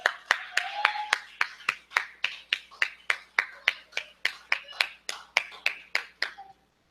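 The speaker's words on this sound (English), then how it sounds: "Another round of applause for Akile and Naye." Steady, evenly spaced audience claps at a rally repeat about eighteen times in a regular rhythm, crisp and moderately loud, then stop.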